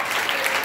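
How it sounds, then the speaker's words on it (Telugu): An audience at a school farewell party claps steadily, a brief dense burst of applause close by with no pauses. "మనం అందరం గట్టిగా చప్పట్లు కొట్టవలసింది"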